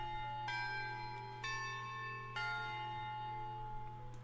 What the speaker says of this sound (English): The recess bell rings just as Miss Lena gave her last signal to st